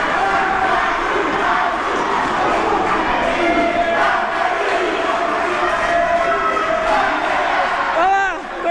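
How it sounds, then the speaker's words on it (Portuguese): A large football crowd roars in delight at a local amateur league cup final match after a goal, a dense sustained wall of cheering and shouting with a whistle near the end. "A torcida monstra ali no delírio!"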